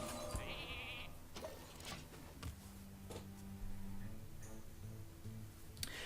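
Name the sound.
sheep bleat from Polymorph spell in Hearthstone video game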